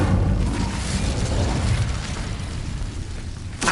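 A fire spell cast in a wizard video game: a loud, sustained whooshing roar of flames with a low rumbling body that runs for several seconds, then ends in a short burst.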